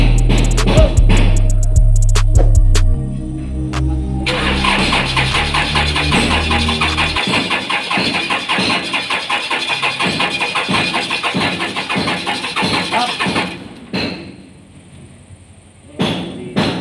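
An engine is started on test after a fuel pump repair. It cranks with loud repeated thumps, then catches and runs with a rapid, steady pulsing beat before cutting out near the end. The whole sequence is loud and close, with no talking.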